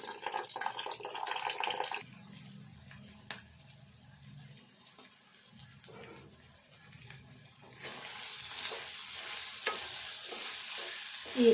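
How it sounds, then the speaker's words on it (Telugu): Chana dal frying in oil in a pan for a tomato curry, a soft steady sizzle with scraping stirs, briefly joined by running tap water, and louder sizzling and clatter toward the end. "శనగపప్పు ఇట్లా ఇట్లా కొద్దిసేపు ఇట్లా వేగినాక"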